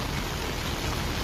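Heavy, continuous rain hisses in a dense, unbroken wash, blending with the rush of a swollen stream near Trilokpur temple in Kangra, Himachal, with no break or voices.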